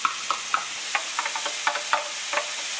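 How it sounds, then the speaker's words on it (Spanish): Garlic and then onion fry in a pan for a corn pie, a constant close sizzle broken by repeated sharp scrapes and taps of a utensil stirring the food. "ahora ya se está friendo el ajito"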